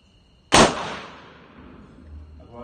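.38 ogival lead bullet fired into a eucalyptus wood wall, a single sharp loud gunshot crack that rings out and decays over about two seconds in an open setting.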